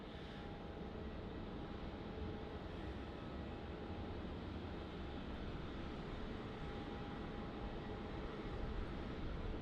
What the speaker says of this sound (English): next to arrive, we have the Jetstar A320